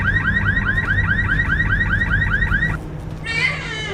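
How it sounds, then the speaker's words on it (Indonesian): A car alarm sounds loud and near in a repeating warbling chirp, then abruptly switches to a different rising tone pattern. "Alarm sebuah mobil tiba-tiba menyala dengan sendirinya"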